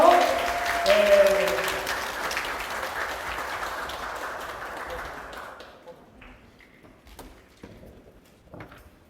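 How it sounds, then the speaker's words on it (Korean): An audience at a student study concert applauds a team leader, steady dense clapping that gradually thins and fades into scattered claps near the end. "우리 김서희 리더님께 다시 한번 큰 박수 부탁드릴게요"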